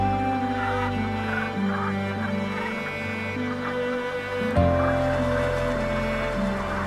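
A large flock of Pacific black brant, small dark geese, on their October stopover at Izembek National Wildlife Refuge in Alaska, with many overlapping honking calls forming a steady, layered chorus throughout.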